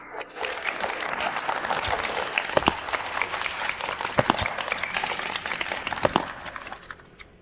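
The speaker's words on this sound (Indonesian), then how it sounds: "Mari kita berikan tepuk tangan meriah untuk pengantin malam ini, Nona Shen Muxi" Warm applause from wedding guests for the bride at an evening wedding, steady clapping from a crowd with a few sharper louder claps standing out, fading toward the end.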